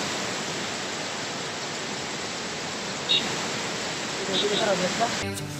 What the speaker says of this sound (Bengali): বাংলাদেশ থেকে দেখা যায় পান্থুমাই ঝর্ণা নামে বিখ্যাত বরহিল ঝর্ণা। পুরো রাক্ষসের মতো শব্দ, মনে হচ্ছে গিলে খাবে।